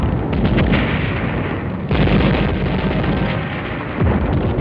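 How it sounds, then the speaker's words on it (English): Barrels and drums of gasoline and motor oil explode inside burning buildings in Manila in 1945, a heavy, muffled rumble of deep blasts and booms rolling on continuously, loud and dense, with no voices. "Barrels and drums of gasoline and motor oil were detonated by the Japs inside buildings from one end of Manila to the other"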